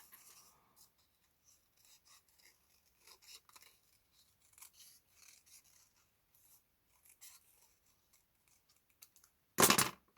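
Scissors cut out a shape in quiet, scattered snips and rustles, ending with one louder, sharper cut close by.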